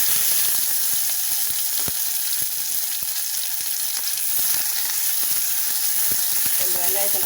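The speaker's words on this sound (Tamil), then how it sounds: "ரெண்டு வெங்காயத்தை நல்லா வதக்கிக்கலாம்." Small onions sautéing in a pan for a chickpea curry give a steady, close sizzle and crackle that stays loud and even throughout, with faint stirring clicks mixed in.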